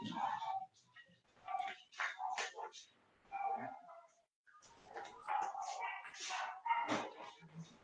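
A small dog yips and barks in scattered, fairly faint bursts in a room, mixed with whimpers, while people talk nearby.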